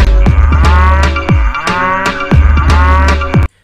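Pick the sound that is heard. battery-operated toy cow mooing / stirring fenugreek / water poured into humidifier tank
battery-operated toy cow mooing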